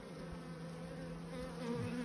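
Buckfast honey bees around their queen make a steady, close drone that grows a little louder near the end, with occasional individual buzzes rising over the hum and no speech.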